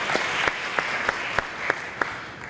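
A church congregation at a Bible study applauds in a steady, hissing wash, with sharp periodic claps standing out about every third of a second.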